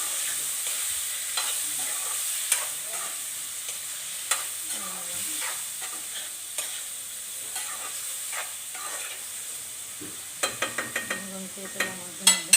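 Two tomatoes with a little salt cook in a pan: a low, steady frying hiss with scattered soft taps and a cluster of sharper clicks and scrapes toward the end.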